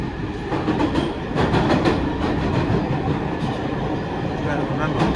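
A New York subway train rumbling through a Manhattan tunnel, running fast with steady clattering wheels and rhythmic clicks over rail joints, loud and close from on board.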